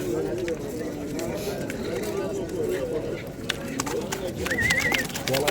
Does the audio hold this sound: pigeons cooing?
yes